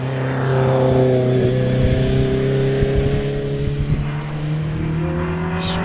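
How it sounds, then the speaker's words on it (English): A Ferrari Dino 308 GT4 climbs a hillclimb course, its engine holding a loud, steady high-revving note close by, rising and dipping slightly as it pulls up the hill. "the last car in practice, which is Ewan Atwood in the Ferrari Dino 308"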